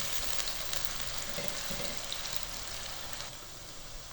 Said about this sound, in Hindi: प्याज को 2 से 3 मिनट तक घी में फ्राई करेंगे